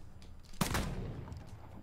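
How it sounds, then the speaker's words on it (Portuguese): Dual pistols fire in the vampire battle royale game Vampire Bloodhunt. One sharp, close shot cracks out and fades quickly into a quiet background. "Deixa eu ver se eu consigo mandar essas pistolinhas duplas aqui"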